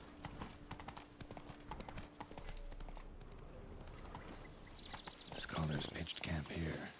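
Roach the horse's hooves clip-clop in steady rhythm in The Witcher 3, growing louder and heavier near the end, with faint game ambience and occasional speech underneath.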